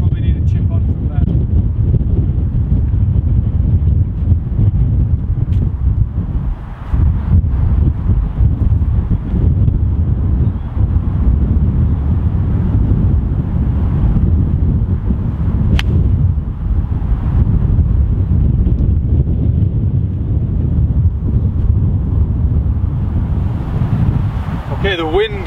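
Steady wind roaring and buffeting across a microphone out on a golf course during a par 5 hole, a constant low rumble for the whole stretch with no clear voices over it.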